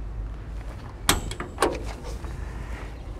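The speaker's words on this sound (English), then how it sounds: "2 steps up into the cab, a large door with a top opening glass." Cab door of a Cat TH414C or TH417C telehandler opening, two sharp metallic clicks and clunks about half a second apart, close by against quiet outdoor background.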